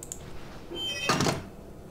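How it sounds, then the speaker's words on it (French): A door opens in the horror video game Outlast with a single dull, solid thunk about a second in, briefly loud against quiet background ambience. "Oh merde, on peut ouvrir cette porte."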